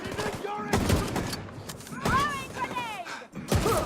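Rifle shots in The Division 2 video game, several loud close gunshot bursts with echoing tails, spaced irregularly, while someone talks over them.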